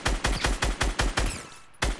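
Rapid bursts of video game gunfire, about seven sharp shots in quick rhythm with a short pause before a final shot, loud and close.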